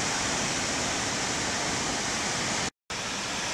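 The waterfall at Black Dragon Pool by Jingpo Lake in Heilongjiang pours down in a loud, constant rushing roar that is broken only by a brief cut near the end.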